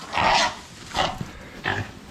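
Young piglet squealing inside a sack: three short, harsh squeals with grunting between them, close and fairly loud over a noisy background.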